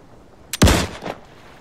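A single loud volley of gunfire in Arma 3, a sharp close blast that rolls off into a brief echoing tail, followed by a fainter second report.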